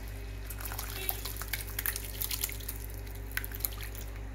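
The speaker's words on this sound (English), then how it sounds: "Now immediately we'll strain this out through a muslin cloth." Whey drips and trickles from fresh paneer through a muslin cloth lining a strainer, soft irregular droplets and small splashes over a steady low hum, close and quiet.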